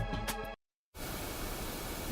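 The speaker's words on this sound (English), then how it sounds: "And the sound is just white noise." Steady white noise hisses from a black screen playing a video in The Hundred Line: Last Defense Academy, after a short tonal burst and a brief moment of dead silence, then a constant even static wash.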